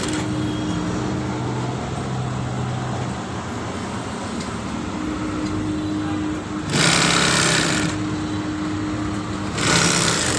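An industrial sewing machine in a garment training center stitches garment pieces, a steady high whirring run that continues without a break, with two louder, brighter bursts of faster stitching near the end against a constant workshop hum.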